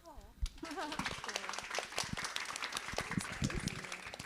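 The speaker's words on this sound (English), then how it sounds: "we're just gonna finish out with a heart-centered applause." Audience applause closing a community leadership gathering, scattered clapping mixed with talking voices and some cheering, fairly close and steady throughout.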